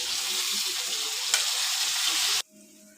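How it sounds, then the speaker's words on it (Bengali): Tomatoes and browned onions fry in a pan for a meat curry, a loud, continuous sizzle for about two seconds that stops abruptly. "পেঁয়াজটা ভাজা ভাজা হয়ে গেছে"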